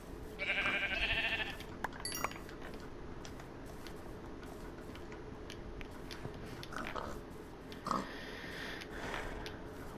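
Sheep in Minecraft give a few short bleats near the start and again around the middle, set against steady game ambience and scattered clicks and taps.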